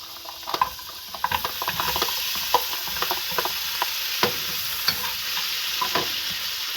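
Frozen vegetables fry in butter in a pan, a steady close sizzle broken by repeated scraping and stirring clicks, with no voices.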